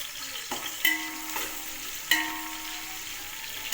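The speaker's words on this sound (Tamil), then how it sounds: "ஆனியனை நல்லா ஃப்ரை பண்ணணும்." Onions frying in a pan for mushroom biryani: a steady close sizzle with a few sharper stirring scrapes and pops.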